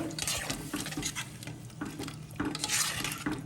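Garam masala being stirred into tuvar dal khichdi in a pot: repeated close scraping strokes with a soft, wet sizzle underneath and no voices.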